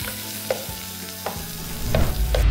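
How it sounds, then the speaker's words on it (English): Onions fry in ghee for biryani with a constant crackling sizzle, broken by a few clicks of a stirring utensil, and the sizzle swells louder toward the end. "I'm going to put a little bit of ghee into that goes. Let's nicely fry some onions"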